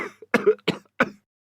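Several sharp coughs in quick succession, four bursts over about a second from a person with a bad cold, close and clear with no talking.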